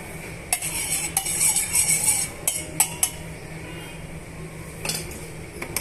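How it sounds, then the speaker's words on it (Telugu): Two tablespoons of ghee melting in a pan for semiya kesari, a spoon clinking and scraping against the metal in scattered taps over a soft, low background, with a few sharper knocks mid-way. "ఒక రెండు టేబుల్ స్పూన్ల నెయ్యిని యాడ్ చేసుకున్న తర్వాత నెయ్యిని బాగా కరిగించుకోవాలండి"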